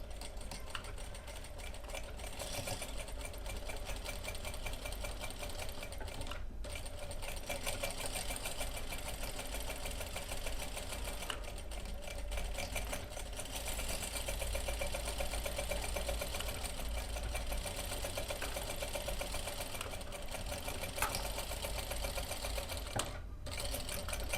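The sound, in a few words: sewing machine stitching a straight lock stitch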